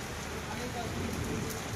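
Heavy evening rain pours down over the town of Rairangpur in Mayurbhanj district, a dense, steady hiss of downpour with no breaks across the short stretch.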